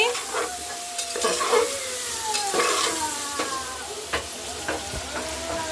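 Mixed vegetables for vegetable rice are stirred in a sizzling pan, with a spoon scraping and clinking against the metal at irregular moments over a steady frying hiss.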